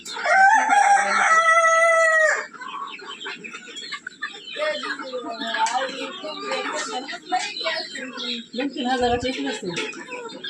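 A rooster crows loudly and close by at a family home, followed by chickens clucking and scratching about while people talk over the farmyard noise.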